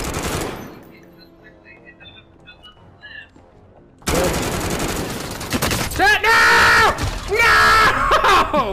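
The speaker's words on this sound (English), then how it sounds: "I hear someone shooting out." Rapid bursts of automatic gunfire in a shooter video game crackle loudly after a quiet opening, joined by excited shouting and yelling from players.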